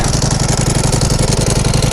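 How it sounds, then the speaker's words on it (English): A Ducati Panigale V4 Lamborghini sportbike engine revving in neutral with its dry clutch, a loud, close, steady throbbing roar with a rapid pulsing rattle throughout and no talk. "Let's give it a couple of revs."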